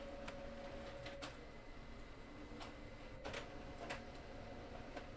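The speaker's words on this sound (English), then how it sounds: "If you hear the whirring in the background, it's because my husband is printing something." A home printer whirs faintly while printing in a studio, giving a low steady hum with a few soft mechanical clicks and shuffles, distant and quiet.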